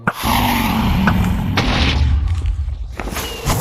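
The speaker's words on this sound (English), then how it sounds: "That was not meant to be a firework" A loud boom bursts as a firework explodes in the Minecraft video game, followed by a sustained crackling rumble that fades after a few seconds.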